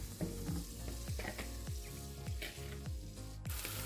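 Prepared green beans frying in melted fat in a pan, a steady close sizzle with repeated soft scrapes as they are stirred, loud and continuous without talk.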